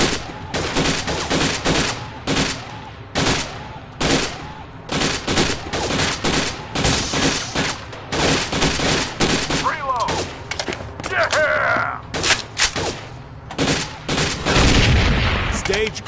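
Rifle gunfire in a PS4 video game, with dense, rapid bursts of loud shots and booming impacts almost continuously over several seconds, with game effects mixed in.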